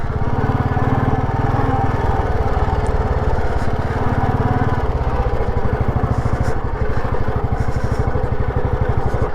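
An old Royal Enfield Bullet 350 with a cast-iron engine thumps with a steady, loud, close exhaust beat while riding over round river stones beside the Ravi River, with faint clatter over the rough ground.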